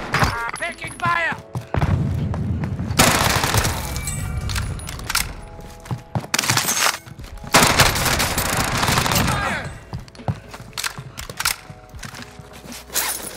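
Incoming enemy gunfire in the Warzone video game: dense bursts of automatic shots and loud cracks in repeated waves, with mechanical clicks and thuds between volleys, no talking.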